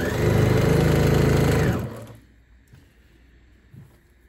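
A sewing machine runs steadily for nearly two seconds while stitching a second seam in stretchy moisture-wicking T-shirt material, then stops abruptly, leaving faint handling sounds.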